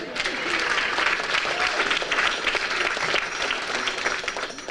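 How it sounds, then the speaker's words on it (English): An outdoor crowd at a bridge milestone event for the Bell Road Bridge at Grand Avenue applauds steadily, a dense sustained clapping at moderate distance with faint voices mixed in. "but that deserves an applause"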